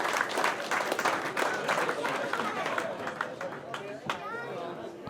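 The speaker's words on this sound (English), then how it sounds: "Another round of applause for them." Audience applause at a live interview, a steady wash of clapping with crowd chatter that slowly fades out.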